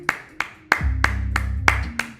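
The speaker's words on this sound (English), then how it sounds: "Clap for me." Sharp, close hand claps in a slow, uneven rhythm, about six strikes over a low sustained hum or bass tone, with no talking.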